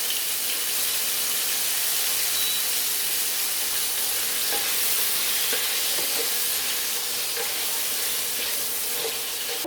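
Seasoned pork fries in a pan for a bottle gourd sauté, giving a steady, dense sizzle with scattered crackles close by and no speech.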